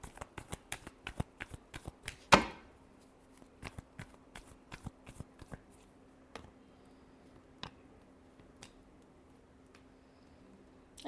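Tarot cards being shuffled: a rapid series of crisp riffling clicks, one sharp louder snap, then sparser soft taps and flicks, close and quiet with no talking.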